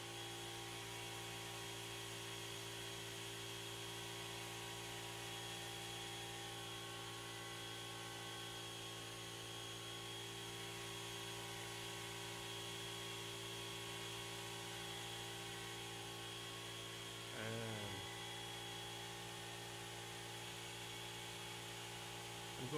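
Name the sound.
air compressor running while airbrush painting a model tank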